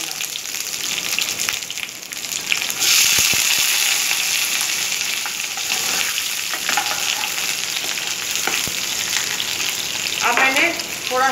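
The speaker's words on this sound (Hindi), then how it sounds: "अब मैं इसमें प्याज, अदरक और ये चीज़ें डालूंगी और मसाले को भूनूंगी।" Onion, ginger and spices frying in hot oil for a tadka for urad dhuli dal, a steady loud sizzle with occasional stirring scrapes and a brief spatter near the end.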